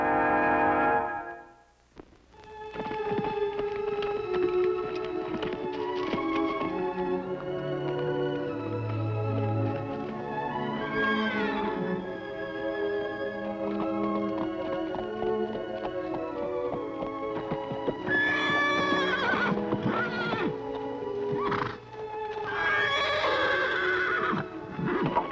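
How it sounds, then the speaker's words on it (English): A wild horse whinnies several times over continuous orchestral music, with loud, shrill neighs rising out of the score in the middle and toward the end and no one speaking. "a great wild horse and the only person on earth who can ride him"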